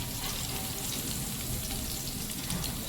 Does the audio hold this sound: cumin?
yes